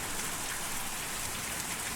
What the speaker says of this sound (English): Oh, we dragged poor Blue up into the rain